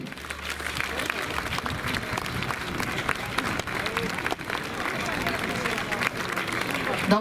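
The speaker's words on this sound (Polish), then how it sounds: "I brawa dla jury!" A live audience at a 1940s fashion contest applauds the jury, continuous clapping from a sizable crowd with voices mixed into the background, steady and moderately loud.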